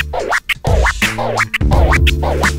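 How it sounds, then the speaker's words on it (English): A DJ cuts a quick combination of turntable scratches on a vinyl record, pulling it back and dragging it against thumb resistance. Rapid rhythmic zipping strokes repeat in loud, close bursts. "A scratch is what I like to call the Shorty Special."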